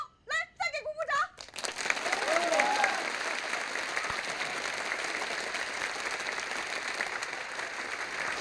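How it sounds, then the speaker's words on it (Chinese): A brief spoken voice is followed by a burst of audience applause at a factory award ceremony, many hands clapping together in a dense, sustained roar that stays fairly even to the end. "来再给鼓鼓掌"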